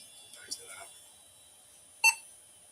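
A retro Daewoo P2 PC gives a single short, sharp POST beep about two seconds in. Faint murmuring and small clicks come before it, and the rest is quiet hum.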